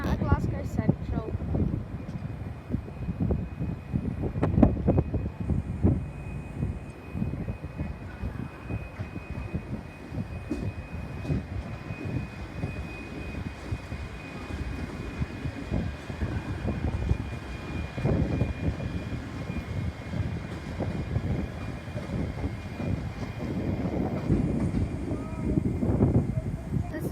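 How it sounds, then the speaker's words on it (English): A ScotRail train pulls out of Glasgow Central station with a low, steady rumble that swells and recedes while it departs, under a faint constant hum from the station. "ScotRail pulling out of Glasgow Central."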